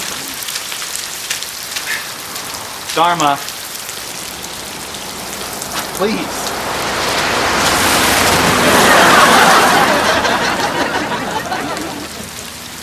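Rain drums steadily on an old, battered car, a dense patter that swells louder toward the end, while a voice speaks briefly over it early on.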